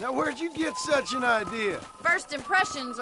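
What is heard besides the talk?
None of the usual background noises is heard.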